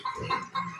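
Piglets in a farm pen make rapid, rhythmic grunts and snorts, four close, steady pulses within a second, with no voices.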